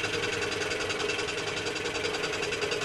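A scroll saw cutting thin wood makes a steady rapid reciprocating buzz with a fast, even pulse, close and constant throughout, with no talking.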